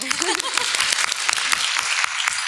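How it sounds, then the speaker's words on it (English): An audience claps through a district spelling bee results announcement, a dense, steady patter of many hands with a voice speaking briefly near the start. "You can clap."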